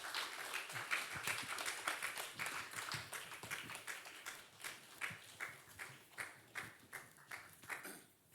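Worshippers at a Friday evening church service clapping along in an even rhythm, fairly quiet and a little distant, with the regular beat of many hands keeping time throughout.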